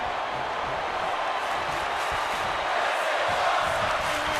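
A capacity wrestling crowd at WrestleMania in Tampa Bay cheers and roars as a broad, sustained wash of noise, loud and continuous throughout with no break.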